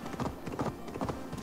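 Horse hooves clip-clop in the video game Assassin's Creed Valhalla, a quick, even run of hoofbeats, fairly soft and close, with no other sound standing out.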